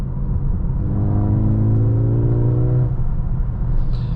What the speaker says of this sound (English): there is a lot of fake engine sound in Sport Plus mode